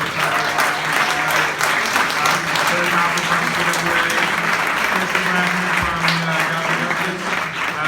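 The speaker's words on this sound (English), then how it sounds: "big round of applause for TWO" A crowd applauds steadily, sustained clapping filling the space from start to finish, with some voices mixed in.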